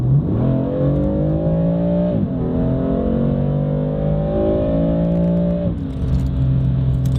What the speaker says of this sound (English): You can hear already a bit of more rumble, and when you start accelerating